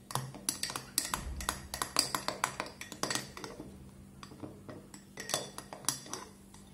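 A metal spoon stirring ice cream into a cola drink in a glass, rapid irregular clinks and taps against the side, loud and close at first, then sparser and softer toward the end.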